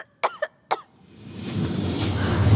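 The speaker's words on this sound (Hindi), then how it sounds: "खांसी को थोड़ा कंट्रोल करो ना प्लीज" A woman on an Indian film set coughs three times in quick harsh bursts, followed by a rising rumble of background noise.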